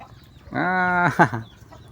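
A chicken lets out one drawn-out, tonal squawk close by in a farmyard where it is stealing feed meant for two calves, followed by a brief softer call.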